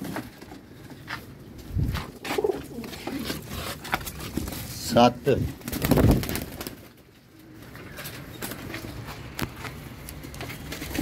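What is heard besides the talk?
flying pigeons cooing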